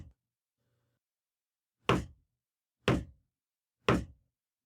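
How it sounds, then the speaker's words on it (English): Three sharp, hollow knocks on a door, evenly spaced about a second apart, loud and clear against near silence with no voices. "What's that knocking? Do you hear it? Knock, knock, knock. 3 times, then a pause, and then again."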